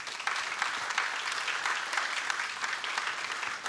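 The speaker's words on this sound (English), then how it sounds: "So give yourselves a round of applause." Audience applause after a personal branding talk, a dense, even patter of many hands clapping at a fairly low, steady level for the whole span, with no voices over it.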